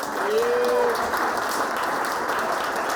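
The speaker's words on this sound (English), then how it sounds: "big round of applause for both teams for the first half" A comedy show audience applauds both teams after the first half, a sustained, even wash of clapping with a faint tonal whistle or cheer near the start and no talk over it.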